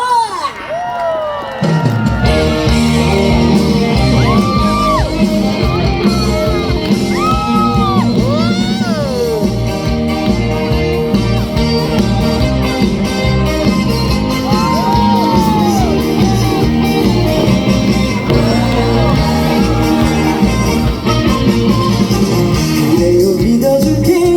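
Outdoor concert crowd at a traditional market fair in Jeongok, loudly cheering, shouting and clapping over booming live band music, dense and continuous from near and far.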